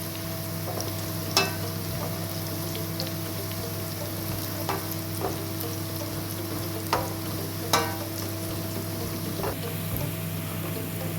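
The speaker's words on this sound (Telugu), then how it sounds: "ఈ ఐటమ్స్ వేసి నేను ఫ్రై చేస్తున్నాను ఇక్కడ." Almonds and whole spices frying in a pan for Amritsari chole masala, giving a steady low sizzle with occasional sharp pops and clicks of stirring, close and with no talking.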